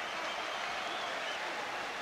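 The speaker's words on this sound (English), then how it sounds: "what a reception from this Albert Hall crowd" A boxing crowd at the Royal Albert Hall applauds and cheers after the Mike McCallum versus Herol Graham fight, a dense, steady roar of clapping with no clear breaks.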